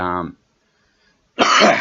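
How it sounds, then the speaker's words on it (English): A harsh throat-clearing cough follows a brief vocal sound and a short silence, close and loud. "sorry, I'm coughing here, people."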